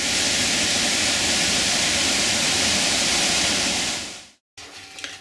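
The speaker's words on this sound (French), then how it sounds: "la belle cascade de Baker's Fall" Baker's Falls waterfall in Sri Lanka gives a loud, steady, broadband roar of rushing water that cuts off abruptly near the end, then returns faintly.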